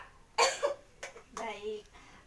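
A patient coughs during an effective-cough exercise in a clinical skills exam: two or three short, forceful coughs close by, separated by brief pauses, with a little voice mixed in.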